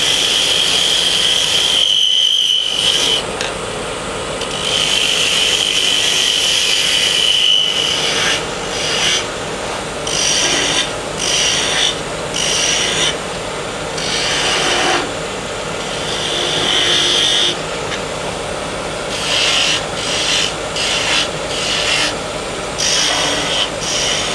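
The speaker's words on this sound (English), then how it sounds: "So we're going to go to the lathe and turn these." Wooden toy lawn mower axles are turned on a lathe, with a continuous rasping, rubbing cut over the machine's hum, broken by several short pauses and changes in pressure.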